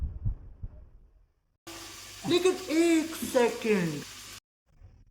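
Oil sizzles and crackles in a pan as spices are added, with a person speaking in the foreground.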